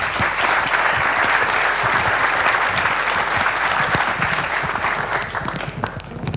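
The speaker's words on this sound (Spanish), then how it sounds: "Un aplauso para él," An audience at a city forum in A Coruña applauds, a dense, sustained burst of clapping from a large crowd that holds steady and then thins slightly toward the end.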